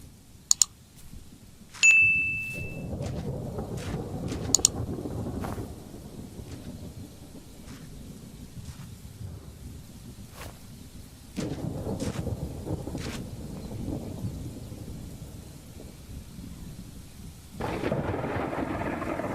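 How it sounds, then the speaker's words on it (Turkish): Rain falls and thunder rumbles in the stealth video game Thief Simulator 2, a low storm bed that swells in loud surges, broken by a few sharp ding-like tones early on. "Niye yağmur yağıyor ya?"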